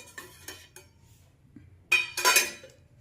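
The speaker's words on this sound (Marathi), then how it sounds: "कुकर उघडून पाहूया। झाकण काढून घ्यायचं।" A pressure cooker holding boiled raw mangoes is opened and its metal lid lifted off after the steam has gone, giving a few soft taps and then a louder, close metallic clatter near the end, with no talking.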